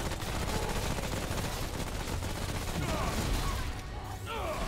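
A rattling gunner enemy in the video game Remnant: From the Ashes lets loose a sustained burst of heavy automatic fire, loud and continuous throughout, with dense rattling shots piling over each other.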